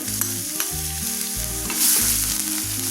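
Crushed ginger and garlic sauté in a pan for Kerala-style mutton roast, a bright continuous sizzle with stirring scrapes close by, over a low background hum and no talk.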